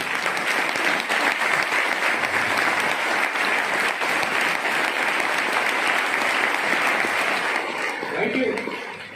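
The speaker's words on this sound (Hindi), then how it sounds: "एक बार ताली बजा दीजिए उनके" Dense, sustained applause from a crowd at a motivational talk, loud and steady throughout, tapering off slightly near the end.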